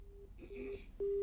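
Telephone line tones sound as a call drops during a live news phone link, a thin steady beep repeating twice over faint background hiss.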